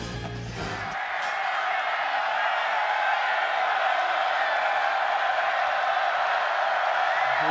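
Football stadium crowd in Morgantown at a Connecticut versus West Virginia game, roaring continuously as a dense, loud wash of cheering and noise after a brief thump at the start.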